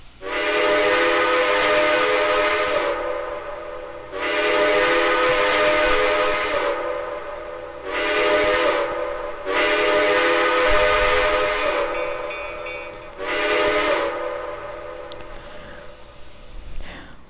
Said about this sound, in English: Next up is Cynthia, Baltimore, Ohio, number 4500, and this is my favorite steam whistle